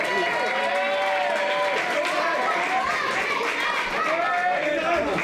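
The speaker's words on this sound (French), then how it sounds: "Les applaudissements, s'il vous plaît" Audience applause and crowd noise at an amateur boxing bout, a steady dense wash of clapping and chatter with no clear pauses, running loud for several seconds.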